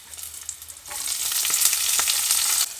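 Finely chopped onion tossed into hot oil in a pan for an eggplant and green chilli dish, a quieter crackle jumping to a loud, dense sizzle that holds steady, no voices.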